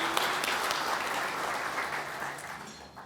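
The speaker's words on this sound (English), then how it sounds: "May we give him and his team a round of applause, Mr. Wilson." Sustained applause from a sizable audience, a dense even clatter of clapping that fades slightly toward the end.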